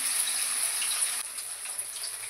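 Paneer cubes frying lightly in hot oil give a steady, bright sizzle with a dense hiss, loud for the first half and then slightly softer and crackly. No one speaks.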